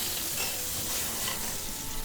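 Veal kidneys and sweetbreads sear in a hot pan, giving a steady, close sizzle that holds even and unbroken throughout without any talk.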